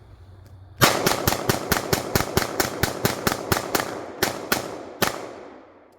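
Rapid string of sharp, loud gunshots from a 9mm handgun with a 17-round magazine, fired in a steady rhythm, a short pause, then a few final shots trailing off, with no talk.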